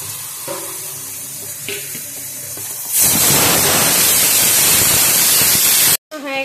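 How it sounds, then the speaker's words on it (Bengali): Chicken darbari masala being stirred and fried in a pan, quiet scraping at first, then a sudden loud hissing sizzle that fills the sound and cuts off briefly near the end. "দিয়ে ভালো করে কষাবো এবারে"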